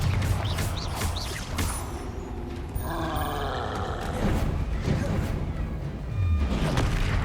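In Hogwarts Legacy, a Confringo blasting spell bursts in loud booming blasts and crashes amid busy duel effects and grunts, with several heavy impacts scattered across the stretch of combat.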